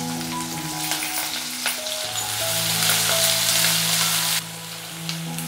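Finely chopped onions and curry leaves frying loudly in oil with popped mustard seeds and fenugreek, a dense, continuous close-up sizzle with scattered crackles that drops somewhat toward the end, with no voices.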